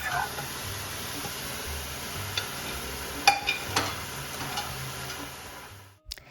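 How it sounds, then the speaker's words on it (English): Ground beef browning on sauté mode in an Instant Pot liner, a faint steady sizzle under scattered wooden spoon taps and scrapes, and a brief clatter near the end before it cuts off. "Begin browning the beef by stirring it and breaking it up with a wooden spoon"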